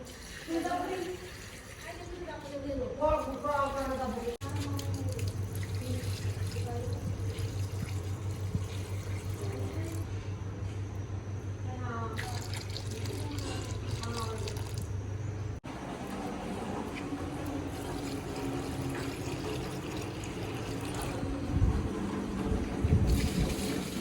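Water poured a little at a time onto garden plants after rain gives a continuous splashing, gushing flow throughout. Someone talks over it near the start and again briefly midway.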